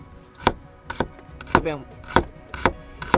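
Garlic cloves chopped with a knife on a board, sharp regular knocks about every half second, close and clear, with a brief snatch of speech in the middle.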